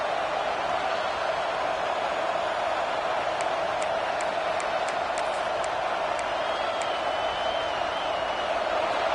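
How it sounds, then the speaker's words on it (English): A large Ole Miss football stadium crowd roars continuously, a dense wall of cheering noise with a few sharp whistles cutting through. "this crowd is fired up. Listen to this noise here."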